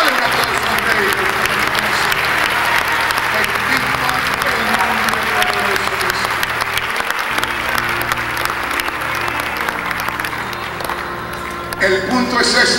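A church congregation applauds continuously and loudly during a Spanish-language service, with sustained low musical tones running underneath and a brief dip near the end.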